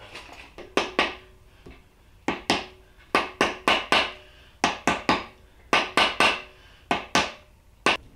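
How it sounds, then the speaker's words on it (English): Rubber mallet tapping an ATI crank pulley onto a K20/K24 engine crankshaft, sharp close knocks in quick clusters of two to four with short pauses between. "I'm just going to get a rubber mallet and just kind of tap it up and down here and there"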